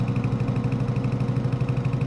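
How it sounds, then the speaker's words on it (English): Small farm tractor engine in Farming Simulator 2025, a steady mid-low chugging drone with rapid regular pulsing, running at full throttle close up, no voices over it. "I'm going as fast as my little tractor can go."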